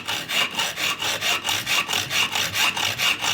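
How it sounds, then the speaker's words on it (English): A hacksaw cuts a few threads off a machine screw for a router plane kit, with about thirteen quick, even back-and-forth rasping strokes close up. "we're just going to go with a hacksaw and take about 4 threads off here"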